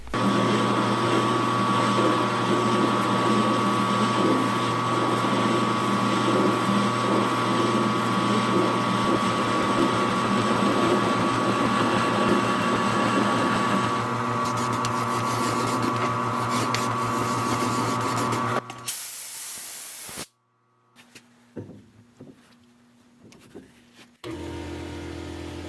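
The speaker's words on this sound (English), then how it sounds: "That's the air compressor that kicked on and ruined the audio." An air compressor in a workshop runs with a loud, steady droning hum for most of the stretch, then cuts off, leaving scattered faint clanks and bumps.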